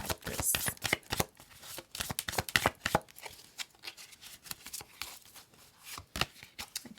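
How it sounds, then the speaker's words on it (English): Zodiac-themed tarot cards being shuffled by hand, a run of crisp, irregular riffling and slapping taps, close and moderately loud, with no talking over them. "So then I'm shuffling the zodiac signs"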